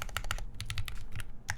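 Mechanical keyboard fitted with Alpaca switches on a Sangeo60 build, typed in quick uneven bursts of clacky keystrokes with a short pause in the middle, close and clear.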